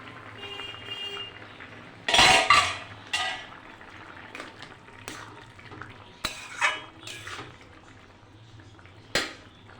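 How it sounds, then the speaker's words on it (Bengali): A spoon scrapes and knocks in a pan as a vegetarian vegetable curry with lentil dumplings is stirred, with a loud clattering burst early on and scattered sharp clinks over a soft bubbling. "ঢাকনাটা খুলে একটু নাড়াচাড়া দিয়ে নেব"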